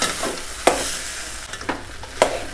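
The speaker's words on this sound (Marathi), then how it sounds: "चांगला परतून घेऊया" Spiced rice (masale bhat) is stirred in a pan, making soft scraping strokes about once a second over a low sizzle.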